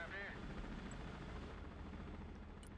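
A helicopter from the Broken Arrow video game drones faintly in the background of a battle, a low steady rotor rumble under a speaking voice.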